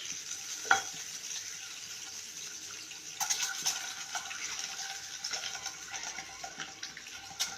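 An egg fries with ash gourd in a pan, a soft crackling sizzle with a sharp clack early on and busier spattering and scraping in the second half, fairly quiet and close.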